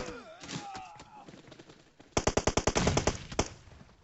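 Rapid bursts of automatic gunfire in a shooting video game, a loud fast string of shots after a stretch of excited talk from players.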